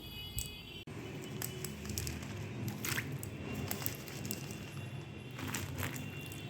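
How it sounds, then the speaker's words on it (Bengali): Green chillies being washed in water by hand, with faint squishing, sloshing and rubbing noises close by, soft and steady with small splashes. "আমি অল্প অল্প কাঁচা লঙ্কা নিয়ে ভালো করে ঘষে ঘষে এগুলো ধুয়ে নেব"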